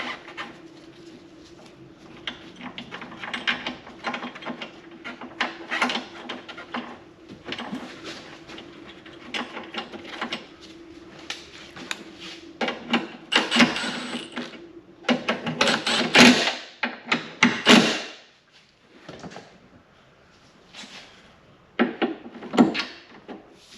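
New bolts being fitted on a Ford Fiesta ST: close, intermittent metallic clicks, ratcheting and rattling in irregular bursts, growing busier and louder toward the end, with no talking.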